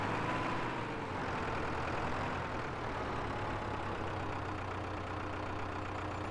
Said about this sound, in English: So get the tractor parked back up for now.